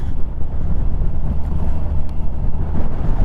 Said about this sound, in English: Super strong gust of wind, which means the storm is coming.